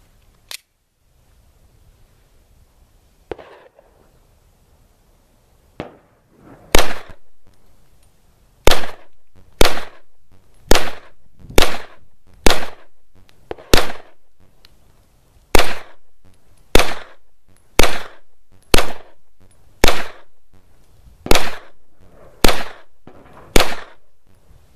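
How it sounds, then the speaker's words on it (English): Beretta 92FS pistol firing a long string of about fifteen sharp, loud gunshots at a steady pace, each crack followed by a short decaying echo, with a quiet stretch and a faint thump before the shooting begins. "now it's time for our second shoot with the Beretta 92FS"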